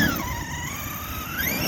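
An HPI Racing Savage XL V2 radio-controlled car drives past with a continuous motor whine that rises and falls in pitch, heard alone at moderate loudness.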